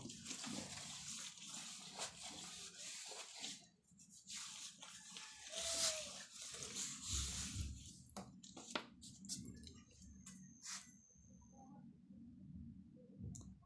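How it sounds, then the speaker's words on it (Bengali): Water splashes and trickles while a small home shrine is washed, quiet and intermittent, with soft rubbing, clicks and a few faint squeaks nearby. "থাকো আমি মায়ের মন্দিরটা ধুচ্ছি"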